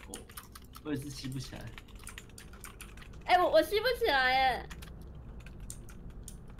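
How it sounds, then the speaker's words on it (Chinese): Keys tapping on a computer keyboard during a Minecraft session, soft quick clicks running under people chatting, with a brief louder burst of voices in the middle. "等一下，我要打字。"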